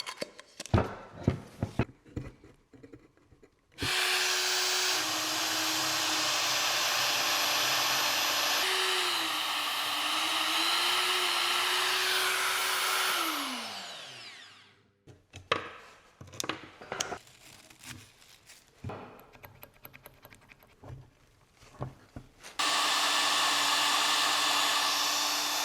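A drill with cutting compound bores a hole for a hydraulic harvester boom built for an excavator. A loud, steady whine runs for about ten seconds and then winds down. Clattering handling noises follow before the whine starts up again.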